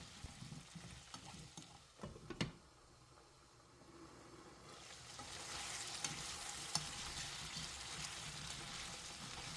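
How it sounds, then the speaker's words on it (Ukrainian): Potato pieces seasoned with salt and ground black pepper fry in a pan over medium heat, giving a steady soft sizzle that swells partway through, with a few sharp stirring clicks early on and no voices. "Все перемішуємо та смажимо на середньому вогні до півготовності."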